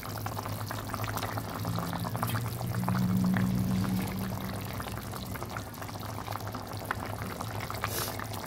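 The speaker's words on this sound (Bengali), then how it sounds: "ঝোলটা সুন্দর ফুটে উঠেছে, আলুগুলো প্রায় সেদ্ধ হয়ে এসেছে।" A fish curry with potatoes bubbling in a pot, a close, steady boiling burble with a low hum rising and easing midway, no voices.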